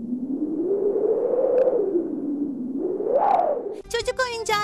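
Cartoon wind sound effect played in a children's guessing game, a hollow, rising and falling whistling howl that swells twice, followed at the end by a burst of bright, processed speech.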